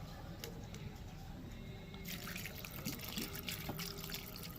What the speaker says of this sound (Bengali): এইবার এর মধ্যে জল দিয়ে দেবো।